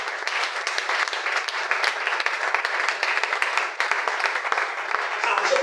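A church congregation applauds for the Lord, a sustained wave of dense clapping from many hands filling the room, steady and fairly loud with no gaps.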